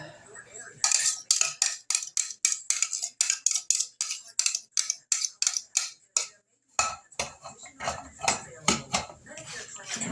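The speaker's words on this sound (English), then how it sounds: "we're just going to mix this with a fork until it all comes together" Fork clinking against a bowl while stirring buttermilk into flour for White Lily biscuits, a steady run of quick, close scraping taps that pauses briefly and then resumes.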